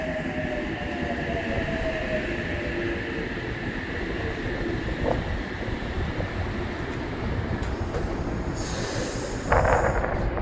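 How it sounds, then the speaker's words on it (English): An Oscar H set electric train rolls into a platform at Oak Flats on the South Coast Line, a loud steady rumble of wheels with squealing brakes and rising hiss near the stop. "it's Oscar set H8 on a Sydney service, driving into platform 2"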